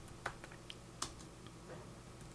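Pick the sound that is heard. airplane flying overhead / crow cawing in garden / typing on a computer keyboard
typing on a computer keyboard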